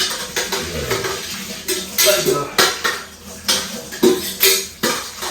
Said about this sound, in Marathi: तुला अशीच स्वतःची भांडी स्वतः घासावी लागणार